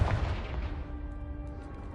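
A Confringo blasting curse explodes in Hogwarts Legacy, opening with a loud, close burst that rolls off into a low rumbling decay with faint ringing tones.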